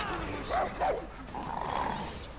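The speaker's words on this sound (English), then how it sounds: "Oh, now I got dogs to deal with." Dogs barking in the open-world shooter Far Cry 5: two quick barks close together, then a muffled yelp, fairly faint under game background noise.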